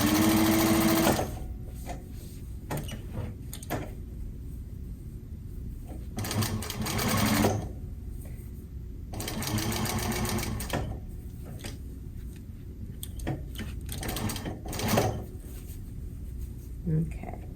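A sewing machine stitches welt onto a box cushion in several short bursts of rapid, close mechanical whirring, separated by pauses with quiet handling noises and a person talking.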